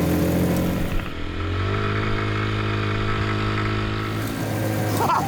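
A hot rod car in Austria accelerates hard, its engine note rising and rumbling loudly and close for several seconds with no talk over it.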